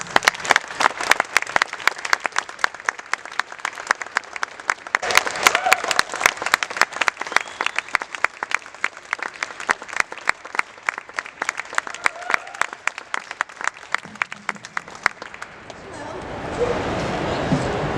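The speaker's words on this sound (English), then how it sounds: "please give a massive round of applause to Fred Hayes." A press briefing audience at a Star Trek convention breaks into steady applause, a long run of sharp, fairly close claps lasting most of the stretch before fading into room murmur.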